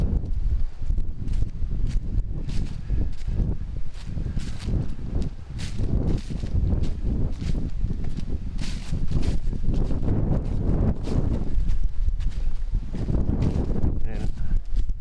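Wind gusting across an open, wide hiking trail at Lake Shetek State Park in Minnesota, a continuous broadband rush with scattered footsteps and rustling underneath.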